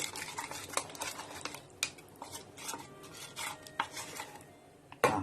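Henna paste being stirred in a bowl, a run of scraping, clinking strokes against the bowl in an uneven rhythm, close and fairly quiet, with no voices.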